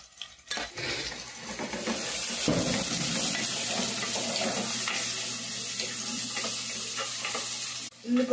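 Curry leaves, onion and green chillies fry in a pan for a beef mutton gongura curry, giving a steady loud sizzle with occasional stirring scrapes, starting after a brief quiet moment and continuing throughout without talk.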